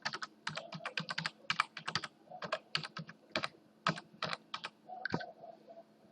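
Keys clatter on a computer keyboard in quick, irregular bursts of close, crisp clicks with short pauses between them.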